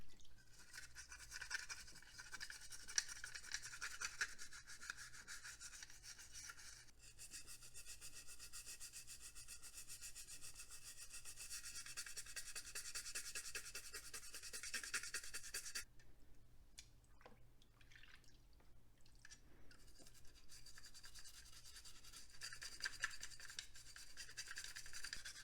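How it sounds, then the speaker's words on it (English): Stiff-bristle toothbrush scrubbing parts of an old IBM PS/2 mouse, a steady close-up rasping brush with brief pauses and a change of stroke partway through, no talk. "I'm just going to use a stiff bristle toothbrush."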